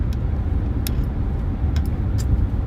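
Truck cruising on a highway at around 75 mph, a steady low rumble of engine and road noise throughout with a few faint high ticks, no talking.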